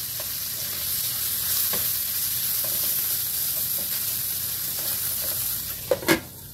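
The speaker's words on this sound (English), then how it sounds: "I'm going to turn my heat down just a little bit because the bacon's almost done." Bacon frying in a pan gives a steady, close sizzle throughout, with a couple of brief clinks near the end and no talk.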